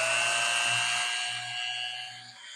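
A Dremel rotary tool running on a flex shaft attachment gives a steady high-pitched whine, close and moderately loud, holding constant for a couple of seconds with a faint low hum beneath.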